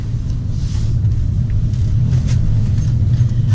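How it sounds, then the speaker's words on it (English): A car speeds through a parking lot, giving a steady, continuous low engine and road rumble from start to finish with no voices. "Speeding through the parking lot"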